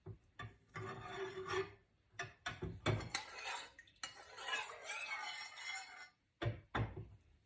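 A spoon scrapes and clinks around a bowl while stirring a cornstarch face mask mixture, with quick bursts of scraping and rubbing strokes separated by short pauses, close and fairly quiet.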